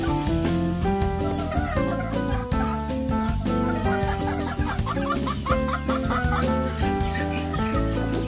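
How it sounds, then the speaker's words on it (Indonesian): A rooster and four hens cluck in a coop, their calls audible but largely covered by loud, steady background music. "Ini kita di kandang dua, satu pejantan dengan 4 indukan."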